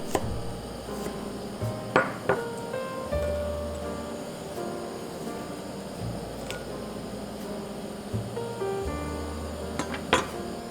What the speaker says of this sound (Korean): 마늘은 10개 정도 편으로 썰어줍니다